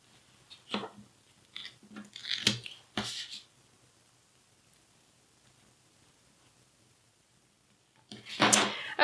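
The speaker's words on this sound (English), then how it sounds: "I'm just going to cut in 4 strips because that's all we're going to need." Scissors cutting paper strips for a shaker card, several short crisp snips in scattered bursts, close and fairly quiet, with a silent gap before a final louder cluster of cuts.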